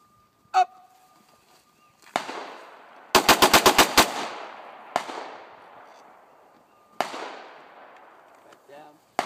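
Handgun shots ring out at a defensive shooting training session: one crack, another, then a tight rapid string of about six shots, followed by two more single shots, all sharp and loud with echoing decay in a quiet outdoor range.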